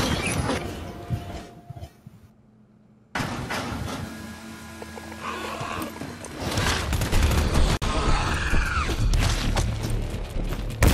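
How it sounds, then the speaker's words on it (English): Gunfire in the GTFO video game, loud rapid shots and crashes in a dense burst after a door bangs open, continuing chaotically with no talking. "I'm gonna shoot him as soon as the door opens"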